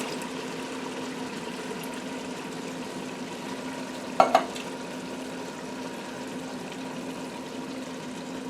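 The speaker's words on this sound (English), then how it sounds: "I'm going to add a little bit more petite onion, celery, and green pepper, diced tomatoes" Onion, celery, green pepper and diced tomatoes cook in a chili pot with a steady, low sizzle and simmer, broken by a couple of brief clinks near the middle.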